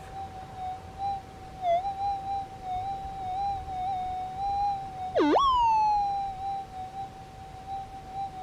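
A faint, steady electronic tone from a metal detector hums with a sudden warbling dip and squeal partway through from EMF interference, against quiet background hiss.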